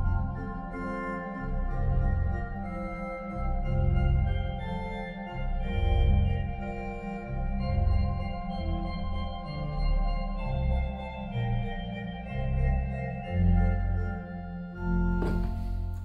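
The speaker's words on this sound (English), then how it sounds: "And I like to combine the 8-foot and 2-foot flutes to make this very" Combined 8-foot and 2-foot flute stops of the Bückeburg organ sampleset give a shiny, bright tone as a sustained baroque passage plays steadily over a firm bass, closing with a short burst of noise.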